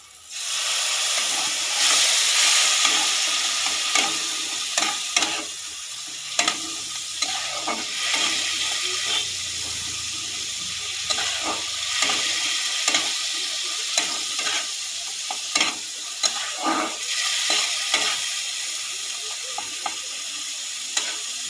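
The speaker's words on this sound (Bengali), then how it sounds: "অল্প একটু জল দিয়ে মশলাটাকে কষিয়ে নিচ্ছি।" Spice paste sautéed with a splash of water in a village kitchen pan gives a loud, steady hissing sizzle, broken by repeated scraping stirs throughout.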